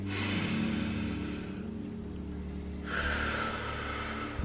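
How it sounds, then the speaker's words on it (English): During a yoga foot reflexology practice, a close, airy deep breath is drawn in, then a brief lull, then another long, steady breathy hiss. "take a big deep breath in"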